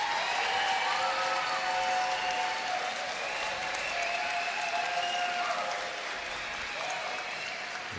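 A crowd applauds a Skye Terrier during terrier group judging at a dog show, steady moderate clapping from spectators at some distance, with faint cheers and whistles mixed in, easing slightly toward the end.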